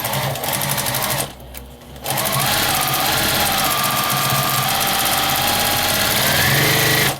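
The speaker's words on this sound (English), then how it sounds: "bring it back to the machine, and starting at the top on the outside, we're going to sew a little seam all the way around" A sewing machine runs steadily as it stitches a seam around the edge of a flannel baby bib, with a brief pause near the start before the motor hums on continuously, close and loud.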